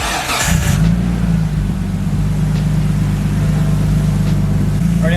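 A car with an RB25 engine cranks and fires up, then settles into a steady, close, loud idle while the system is bled, with no talking.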